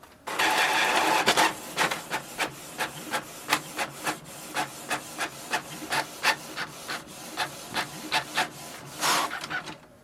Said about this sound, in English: So here we can see we have printed it.